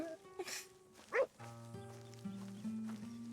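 In a Red Dead–style ranch roleplay game, a dog gives a couple of short barks and a whimper, fairly quiet, followed by steady in-game music tones.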